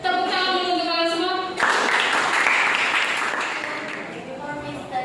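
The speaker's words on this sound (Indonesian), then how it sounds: "Tepuk tangan dulu untuk kalian semua" A class of students in an English lesson clap their hands together, a dense burst of close applause that begins after a teacher's short spoken line and fades slowly over several seconds.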